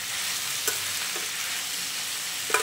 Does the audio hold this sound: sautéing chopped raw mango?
yes